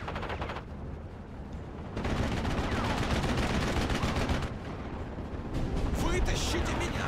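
Rapid machine-gun strafing from aircraft in a war video game, a dense rattling barrage that comes and goes in loud bursts with explosions mixed in, under a noisy battle backdrop.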